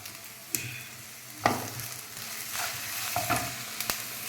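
Onions fried until reddish with green chili paste just added sizzle in a pan, a steady close frying hiss broken by a few sharp scrapes and knocks as the mixture is stirred.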